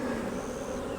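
Honey bees buzz thickly during an inspection of an agitated hive with frames pulled out, a dense, continuous drone of many insects close by, steady throughout the brief moment with no voices.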